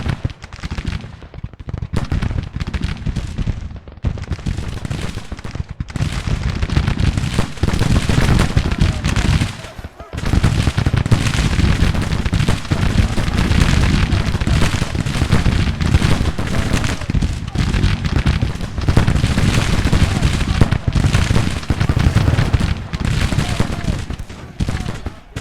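Soldiers' gunfire in the Grand Tactician strategy game, a sustained crackling fusillade of musket volleys rolling on almost without pause for the whole stretch, with one brief lull, loud and dense.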